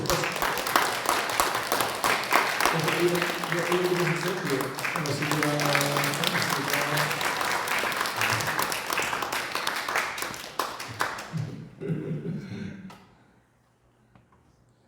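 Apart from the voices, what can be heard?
church congregation applause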